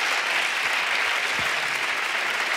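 Steady, dense applause from a studio audience at a late-night television show, even and sustained for a few seconds without pauses, filling the room at moderate loudness.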